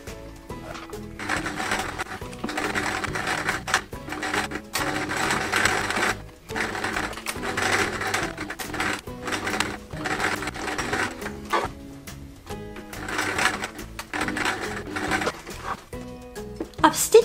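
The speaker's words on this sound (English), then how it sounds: "My sewing machine is all set up and I'm ready to go." A sewing machine runs in bursts of rapid mechanical stitching, stopping and starting repeatedly, with brief pauses between runs.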